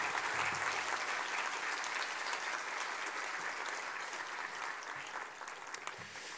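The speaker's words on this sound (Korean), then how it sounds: "따뜻한 환영의 박수 우리" A church congregation at a Sunday morning worship service applauds in welcome for a visiting pastor, a dense, steady wash of many clapping hands filling the room at full strength for several seconds before tapering slightly, with no voices over it.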